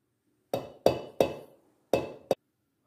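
Five sharp clinks of a utensil knocking against a glass bowl while the first egg is mixed into pancake batter, evenly spaced and close, each ringing briefly before fading.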